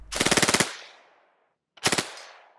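A Soviet PPSh-41 submachine gun fires a rapid burst of about ten shots, then after a pause a shorter burst of four, loud and close with echoing decay.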